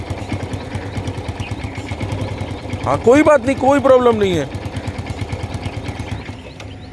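A 150cc motorcycle engine idles and runs with a steady, close, pulsing putter throughout, while someone talks briefly over it in the middle.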